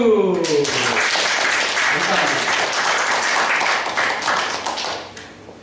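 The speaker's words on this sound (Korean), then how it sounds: "모두를 위해서 힘찬 격려의 박수" A church congregation applauds loudly and steadily for nearly six seconds, dense clapping filling the room, while a pastor's voice briefly speaks over the start.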